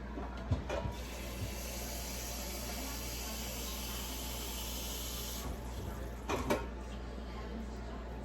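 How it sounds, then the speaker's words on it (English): Water from a kitchen sink tap runs steadily into a pot, a soft continuous hiss that stops abruptly partway through, with a few faint clunks near the start and end. "let me get right here at the sink and add some water"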